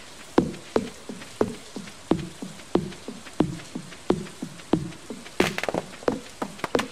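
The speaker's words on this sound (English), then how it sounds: "Stop chopping the trees." Trees are chopped in the farming video game Stardew Valley: sharp wooden axe thunks repeat at a brisk, steady rhythm about twice a second, each followed by a short splintering decay, with no voices.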